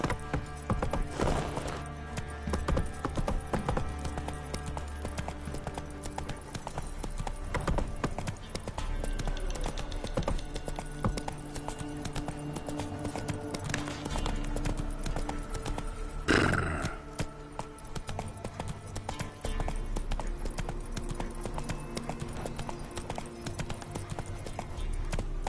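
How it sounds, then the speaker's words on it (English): Horse hooves clop steadily in The Witcher 3, a continuous rhythmic beat under game ambience, with a whinny partway through and brief voices now and then. "Whoa there, Roach."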